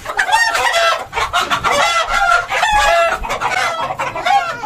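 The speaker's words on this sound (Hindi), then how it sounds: "मैं ही पकड़ लेता हूँ मुर्गियों को।" Chickens cluck and squawk loudly at close range while being caught for weighing on a small farm, a dense, agitated flurry of calls with occasional crow-like cries.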